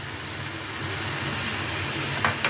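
Salt, chilli, turmeric, cumin and coriander powders frying in oil in a pan, a steady close hiss and sizzle throughout with a couple of faint scraping stirs near the end.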